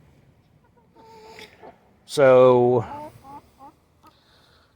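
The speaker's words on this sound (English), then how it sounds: "the chickens themselves, I've got 2 breeds going on here" Backyard chickens of two breeds in a chicken run cluck softly, then one bird lets out a loud squawk before the quieter clucking resumes, with a brief bit of speech.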